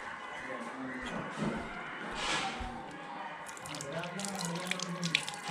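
Running water from a tap as hands or an object are rinsed off, with splashing and trickling that swell and fade, and some faint talking in the background.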